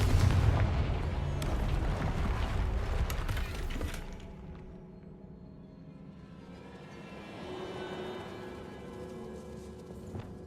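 Fiery Confringo blast spell exploding during combat in the video game Hogwarts Legacy: a loud, dense burst of booming, crackling impacts for about four seconds, then a quieter lingering rumble and debris-like texture.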